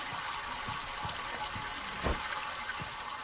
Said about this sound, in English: Okay, water is running.